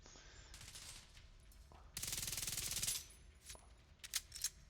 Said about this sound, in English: To see that fucking machine gun